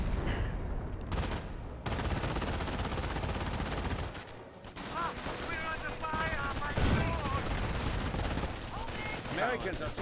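A machine gun bunker in Company of Heroes 1 rattles out dense, continuous bursts of gunfire. Other battlefield shots and blasts mix in, loud and close throughout.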